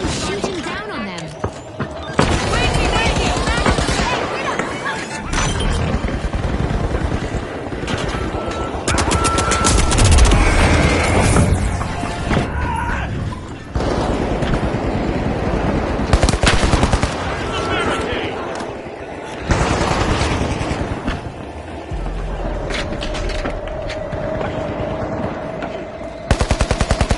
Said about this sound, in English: UFOs are hovering above our contestants and shooting down on them.